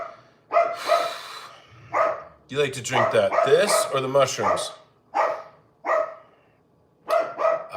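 Several dogs barking loudly indoors in repeated sharp bursts with yips between them, close by, while a person talks intermittently among the barks.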